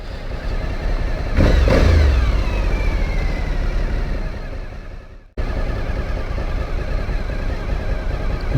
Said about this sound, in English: Very silky smooth engine.